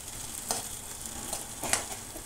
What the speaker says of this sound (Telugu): నానబెట్టిన పెసరపప్పు ఈ పోపులో వేసి కలపాలి.